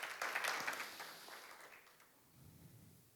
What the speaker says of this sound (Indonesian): Kita berikan tepuk tangan yang meriah buat Tuhan Yesus.